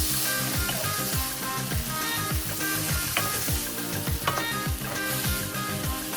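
Saag paneer, spinach with cheese, stir-fried in a pan, giving a steady close sizzle with repeated stirring strokes through the full stretch, and a tonal background running beneath.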